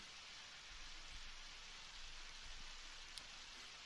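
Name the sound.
rain in a video game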